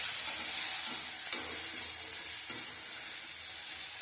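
Garlic cloves and ginger sauté in a hot pan, a constant dense sizzle with faint scraping stirs, steady and fairly loud with no talking.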